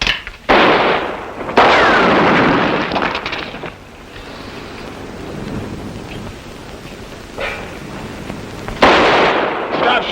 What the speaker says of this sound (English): Stop shooting into there, Lute.